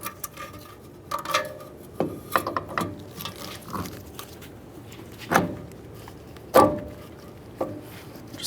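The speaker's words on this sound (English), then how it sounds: "We're going to start with the wheel bearing, sliding it onto the knuckle and the axle shaft right here" A new wheel bearing being worked onto the steering knuckle and axle shaft of a Ford F-150, giving scattered close metallic knocks and clunks with a few sharper impacts and quiet handling noise between them.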